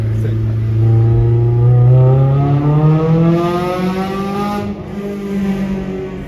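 A Honda S2000 AP2 engine winds up steadily past 8,000 RPM on a highway, its pitch rising through the revs with a brief drop at a gear change, loud over road noise.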